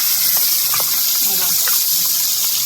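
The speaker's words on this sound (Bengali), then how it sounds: "বড় মাছগুলো আগে ভেজে নিই" Large fish frying in hot oil in a home kitchen, a loud continuous hiss and spatter with faint crackles, with a voice murmuring briefly in the background.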